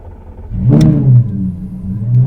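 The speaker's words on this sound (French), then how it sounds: "Ouais, l'échappement, il est quand même assez violent." A Lamborghini Gallardo Superleggera starts up with a sharp bark and a loud exhaust flare, then settles into a deep, rumbling idle with a second rise in revs, close and powerful, no talk.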